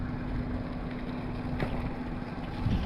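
A boat motor drones steadily over open water on Tonle Sap Lake in Cambodia, with a constant low hum and wind noise throughout.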